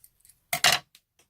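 Scissors snip through an old silk blouse, cutting it in half: a couple of faint ticks, then one loud crisp slicing crunch, followed by a few soft isolated clicks as the blades close.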